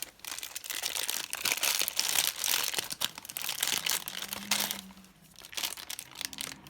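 Plastic packaging of a Coles Little Shop mini collectable crinkles and tears open up close, with irregular rustling and crackling bursts over several seconds.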